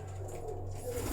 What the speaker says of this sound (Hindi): ले आए हूँ कबूतर।